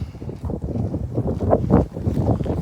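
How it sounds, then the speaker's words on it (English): Strong wind buffets the microphone outdoors during a walk with a dog, a steady, loud rumbling roar that swells and gusts throughout, with no voices. "As you can see, it's very windy."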